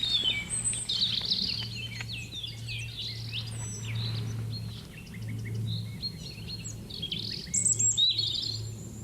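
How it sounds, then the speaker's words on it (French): A European robin sings from a shrub, marking its territory with repeated high, thin warbling phrases and trills separated by short pauses. A steady low hum runs underneath, with faint insects behind. "Alors, joli rouge-gorge. Il est juste là dans l'arbuste. Il est en train de marquer son petit territoire."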